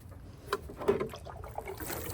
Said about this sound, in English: So I'm just going to water them today.